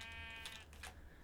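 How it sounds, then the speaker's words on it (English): Bleating sheep in the video game Minecraft, a few short synthetic bleats in quick succession, fairly clear and close against a quiet background. "And more sheep wouldn't hurt."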